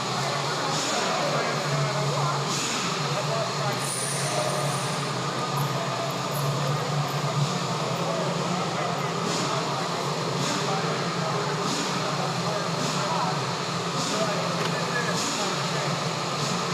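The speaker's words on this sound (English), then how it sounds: "You hear the roar of the Nitro behind me." Nitro RC engines roaring at a radio-control tractor pulling world championship, a constant loud droning whine with shifting engine pitch, heard throughout beneath someone talking nearby.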